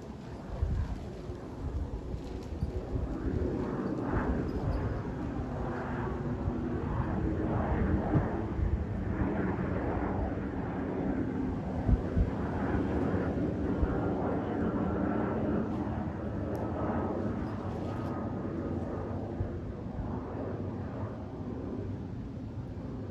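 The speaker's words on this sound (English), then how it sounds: "E190 flying over my house en route to London City Airport from Milan Lannet Airport" An Embraer E190 jet passes over a house on its approach to London City Airport from Milan Linate, a steady low engine roar holding for over twenty seconds, mixed with gusty wind noise.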